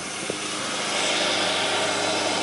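A Briggs and Stratton engine drives an apple grinder while making cider, giving a loud, harsh, steady mechanical roar that swells a little after the first second and keeps going without a break.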